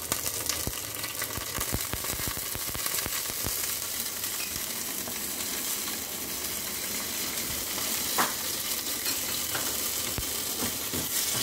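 Slit chilies and finely chopped curry leaves frying in hot oil, a loud, dense, steady sizzle with crackling spatters throughout, close and alone without voices.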